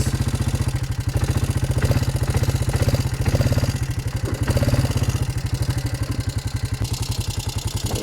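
Four-wheeler ATV engine running steadily after a decade of neglect, a close, loud rhythmic chugging idle with a rapid even pulse throughout, alone without talk.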